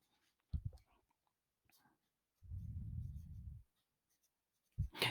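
Pen or marker writing during a math lecture gives a faint, steady scratching stroke of about a second, between brief soft taps and quiet background sounds.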